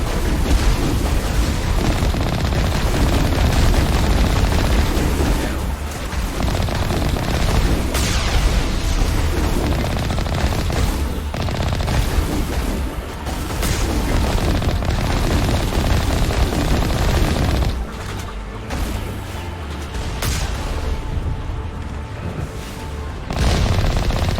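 Gunfire in Mass Effect Legendary Edition, a dense, loud, continuous barrage of shots and booms running throughout with brief dips, like sustained weapon fire and impacts.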